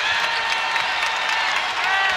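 A basketball arena crowd at an NCAA women's tournament game between UNLV and Arizona applauds and cheers in a steady, dense wash of clapping and voices that holds level throughout.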